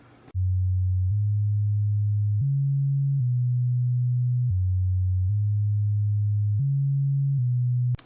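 A sub-bass sine synth, used during the choruses of a song, plays a pure, deep tone alone. It steps through a repeating sequence of four sustained low notes, loud and steady, with soft clicks at each note change.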